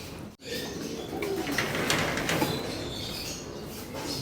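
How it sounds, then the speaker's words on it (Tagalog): Young pigeons in a breeding loft call while hungry, a steady soft cooing and chirping that carries on without a break, moderately close and with no talking. "So nakaabang na nga yung aking mga young bird, mga kalapatids. Ayan, gutom na."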